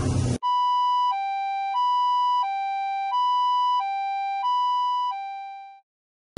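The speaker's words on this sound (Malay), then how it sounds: "Ambulans dah sampai dah." An ambulance siren at a uniformed-services carnival in Bintulu, Sarawak, sounding a loud two-tone hi-lo wail that alternates steadily several times before fading out, heard alone.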